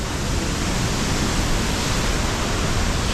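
Steady roar of a waterfall at a viewing point between Dovan and Himalaya on the Annapurna Base Camp trek in Nepal, loud, continuous and broadband, with no voices.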